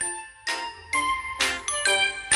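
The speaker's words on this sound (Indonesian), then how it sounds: "Plik, plok, plik, plok. Terdengar ransel Ana berbunyi lagi." Rattling from a child's backpack in a children's story about properties of materials, heard as a series of bright, tinkling jingles in irregular bursts, close and moderately loud, with no talk.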